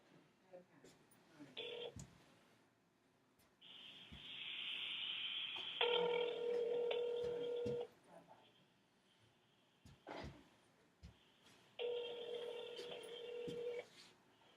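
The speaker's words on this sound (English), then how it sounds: "Let me call Brian right now and see if I can get him on the phone" Telephone call being placed: short bursts of touch-tone dialing, then repeated electronic ring tones, with someone talking faintly in between.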